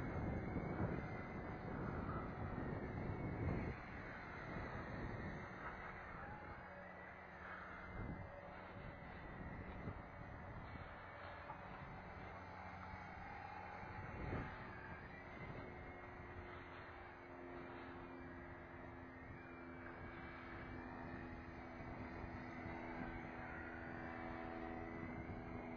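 Tarantula X6 drone flying on a windy day, a steady continuous motor and propeller whine heard from a distance, roughened by gusting wind buffeting the microphone throughout.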